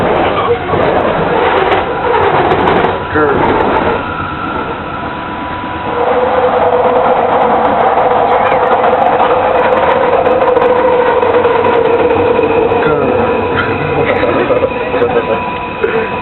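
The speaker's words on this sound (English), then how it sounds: "We are here on my train, the FedEx train." Inside a moving FedEx-themed train, a loud, steady rumble of wheels and carriage runs the whole time, with a brief dip midway before the hum swells again as it nears a station.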